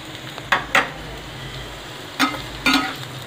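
Cashews and onion pieces fry in a pan for an Andhra prawn curry, a low steady sizzle with a few sharp stirring clatters, close and alone without speech.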